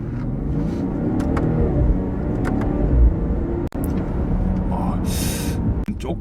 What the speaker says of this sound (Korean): 속도를 낮춰놓고 이번엔 4000 RPM으로 가볼게요